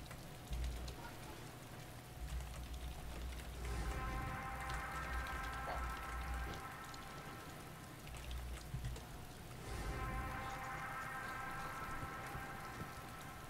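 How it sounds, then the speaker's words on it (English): Steady rain falls in the DayZ video game, a continuous soft hiss of drops pattering on surfaces, with a low hum underneath and no talking. "Is it raining where you are? It's raining over here."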